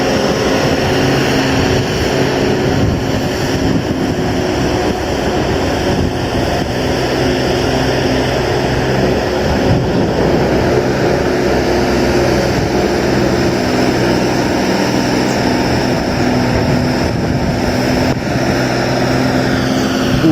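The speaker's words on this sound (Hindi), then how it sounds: "गाड़ी चढ़ा थे अभी ऊपर।" A vehicle engine labours steadily uphill out of a quarry, a continuous near droning hum with low tonal bands and no pauses, loud throughout with no talk.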